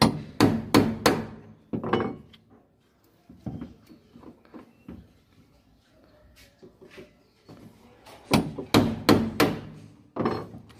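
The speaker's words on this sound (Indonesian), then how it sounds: "Tatah palu gunanya seperti ini." Hammer striking a chisel on wood, bursts of sharp rapid knocks in quick clusters separated by quieter pauses, close and loud.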